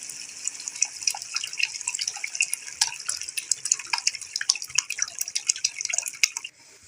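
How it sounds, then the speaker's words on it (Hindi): One litre of water is poured into a pot of cooking masoor lentils. The splashing, bubbling pour runs close and loud for several seconds, then cuts off abruptly. "अब इसमें मैं 1 लीटर पानी डाल रही हूँ"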